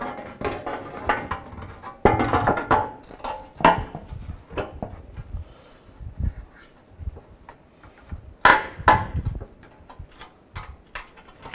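A metal radiator shield on a Nissan Xterra slides back into place, giving irregular close scraping and sharp metallic clanks and knocks, some loud, separated by quieter gaps, with no talk.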